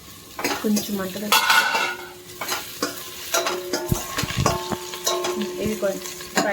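Vegetables and spices for veg pulao fry in a hot pan, with steady sizzling, repeated clinks of a spoon stirring against the metal and a few sharper utensil knocks, fairly close and alone.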